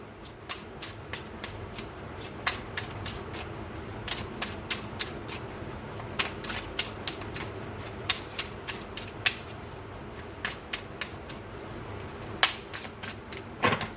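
Tarot cards are shuffled by hand in a steady run of quick, crisp riffling slaps, close and fairly quiet, with no talking over them.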